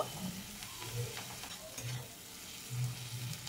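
Chopped onion frying in a pan while making a bhindi (okra) dish, a quiet low sizzle with soft stirring scrapes, no voices.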